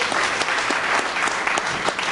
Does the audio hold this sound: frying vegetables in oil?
no